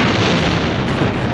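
Grenade blast inside a helicopter in the 1963 film From Russia with Love, a loud, dense roar of explosion noise filling the whole short moment without a break.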